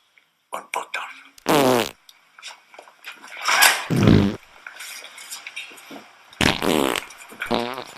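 Farting noises dubbed over a German-language film scene, several loud, drawn-out blasts of varying length scattered among stretches of tense male speech in German.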